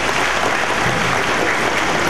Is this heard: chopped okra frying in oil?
no